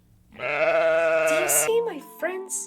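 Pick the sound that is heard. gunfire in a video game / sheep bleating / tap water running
sheep bleating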